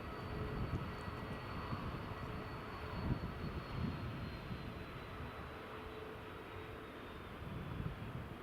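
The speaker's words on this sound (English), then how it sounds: "Loganair ATR has just lined up now on runway 24 with the Delta 767 on the approach." Airliners at Edinburgh Airport, a Loganair ATR lined up on runway 24 and a Delta 767 on approach, give a faint, distant, continuous jet and engine rumble with a thin whine over outdoor wind, steady with no talking.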